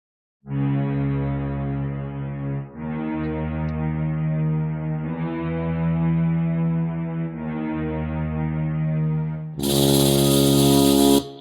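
A sustained synth string ensemble plays low, droning chords an octave down that shift every couple of seconds, ending with a brighter, fuller swell; no voices.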